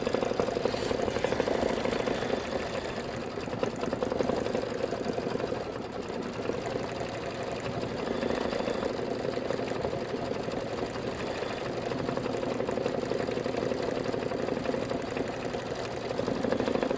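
An embroidery sewing machine stitches a felt pie design, its needle chattering in a fast, steady mechanical rhythm that runs loud and continuous without a break.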